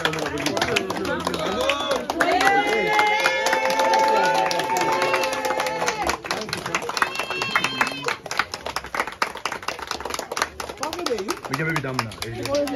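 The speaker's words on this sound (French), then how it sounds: "On applaudit." Wedding guests clap at the celebration for Willy and Samantha, scattered hand claps rising and falling under steady overlapping chatter and voices nearby.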